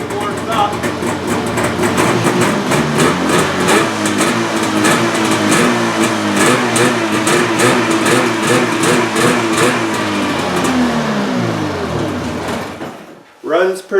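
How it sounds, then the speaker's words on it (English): A Jag 3000 FC engine, warmed up and with its carburetor running rich, keeps up a steady, pulsing mechanical run close by for most of the stretch before cutting out near the end. "Actually runs pretty good when you warmed up"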